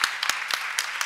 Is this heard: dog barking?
no